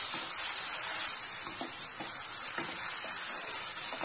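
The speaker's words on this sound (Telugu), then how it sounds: "ఇప్పుడు ఒకసారి మొత్తం మిక్స్ చేసుకుందాం" A spoon steadily stirs tomato puree in a cooking pan for a rajma curry, with a soft continuous sizzle and faint scraping close by, and no talking.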